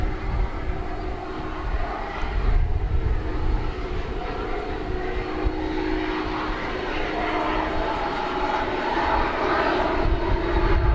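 An MD-11 airliner passes at DFW Airport on a hot summer afternoon, its jet engines making a loud, steady roar that builds and holds throughout.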